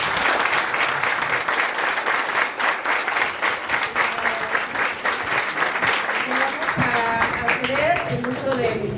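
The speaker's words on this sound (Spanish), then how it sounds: "Pues yo quiero pedirles, chicos y chicas, un fuerte aplauso para Alfredo Guerrero." Loud, sustained audience applause fills the room at a university lecture event, thick and continuous, with a voice and tonal sounds emerging through it toward the end.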